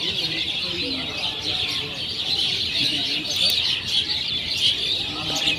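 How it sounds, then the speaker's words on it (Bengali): Outdoor birdsong among trees and kans grass near ducks: a steady, fairly loud chorus of chirps and tweets continues throughout, with faint low rustling and murmur beneath. "পাখির ডাকটা অনেক ভালো লাগে"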